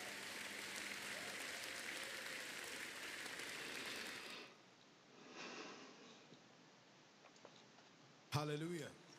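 Church congregation applauding during a French-language worship service, a dense broadband wash of clapping for about four seconds that then cuts to quieter room sound with a brief burst near the end.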